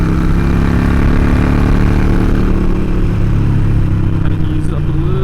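A custom Harley-Davidson Sportster Forty-Eight motorcycle engine rumbles loudly and steadily under way on an open road, a deep continuous throbbing with rising tone as it pulls, accompanied by wind noise.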